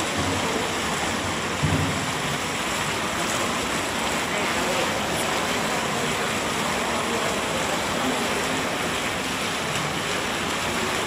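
Fountain water splashes in a continuous, fairly loud wash, steady from start to finish with a small bump partway through.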